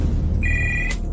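Telephone ringing at 3 a.m. in a rented house: a single short electronic ring tone, loud and close, sounding alone after a moment of quiet.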